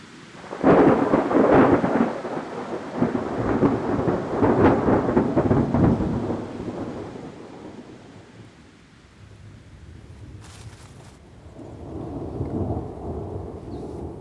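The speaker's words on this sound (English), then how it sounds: "Up here, storms are frequent, sudden, and powerful." Thunder rolls and rumbles loudly through a heavy storm with rain in the Bavarian Alps, fading to steady rainfall before another softer roll of thunder builds near the end.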